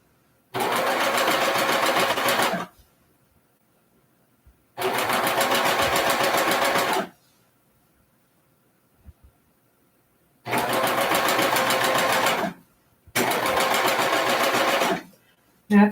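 A sewing machine stitches fabric in four steady bursts of a couple of seconds each, loud and close, with near silence between runs.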